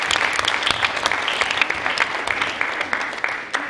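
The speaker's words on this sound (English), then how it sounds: "Let's give Alan a round of applause." An audience at a Viera High School Hall of Fame induction ceremony applauds steadily, a dense patter of many hands clapping at an even level throughout with scattered sharper claps.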